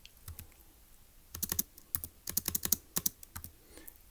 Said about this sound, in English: let's go ahead and type up in our notes